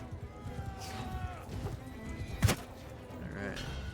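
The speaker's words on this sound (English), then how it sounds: "Now I gotta chase these horses all over the damn thing." Horses galloping in the medieval battle game Mount & Blade II: Bannerlord, a low busy rumble of hooves beneath battlefield noise and voices, with one sharp impact midway.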